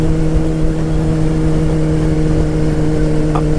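A Honda CBR motorcycle engine running hard near 3,000 RPM, a loud, steady droning hum with strong even tones throughout, close up and with no voices.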